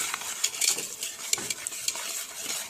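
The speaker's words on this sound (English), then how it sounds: "Combine the two together with a whisk" A whisk working maple syrup and brown sugar together in a bowl, with quick, bright metallic ticks and scrapes in an even rhythm, close and fairly quiet.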